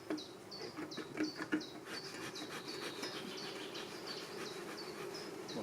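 Honey bees buzz quietly at a hive being smoked between the super and the brood body, a faint continuous hum with a repeated chirping note over it.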